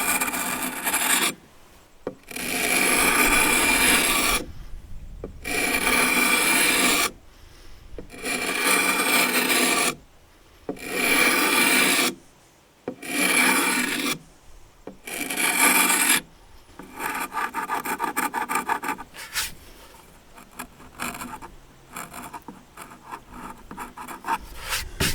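A hand scraper rasps lacquer off a brass bell in steady strokes, a close, loud gritty scraping in regular bursts separated by short pauses, ending in quicker, lighter back-and-forth scratches.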